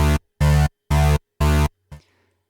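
A sustained synth chord chopped by a step gate effect into four even on-off pulses, then a short fading fifth burst; loud and strictly rhythmic, with no voices.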